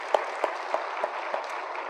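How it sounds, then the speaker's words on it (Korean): A church congregation at a Sunday service claps together, making a steady patter of hand claps with a few sharper accents falling at regular intervals, heard at moderate volume with no talking. "예수님께 박수 한번 쳐드립니다."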